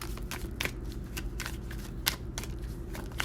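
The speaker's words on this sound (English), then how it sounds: "I'm gonna shuffle." A tarot deck is shuffled in a series of quick riffling bursts, close and crisp, repeating irregularly over a low background hum with no talking.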